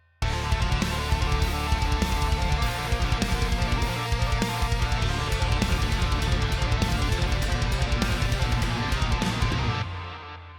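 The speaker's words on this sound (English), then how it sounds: "It's simply grabbing a sympathetic chord and tapping it as a quick high melody over our track." Distorted guitar taps a quick, high chord melody over a loud, driving heavy backing track, then cuts off abruptly.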